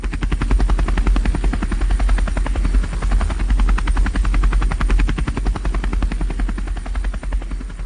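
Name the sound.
helicopter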